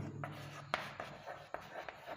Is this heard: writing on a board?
yes